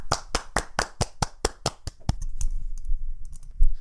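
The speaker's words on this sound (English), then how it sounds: "Round of applause." Close, sharp hand claps from a small group in a podcast studio: a steady quick rhythm at first, then a looser, scattered patter that trails off.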